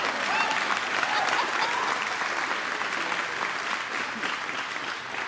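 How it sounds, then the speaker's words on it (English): Sustained audience applause at the grand opening of an electric vehicle factory, a dense, even wash of clapping from a large crowd lasting several seconds. "That's an applause."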